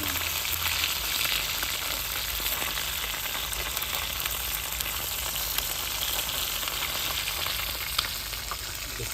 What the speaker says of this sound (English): The first batch of fish done fry up.